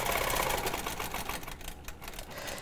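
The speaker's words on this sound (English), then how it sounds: "You can just stitch right across there." A sewing machine runs a quick continuous stitch straight across quilting fabric, its steady mechanical whirr and needle chatter close and loud, easing slightly near the end.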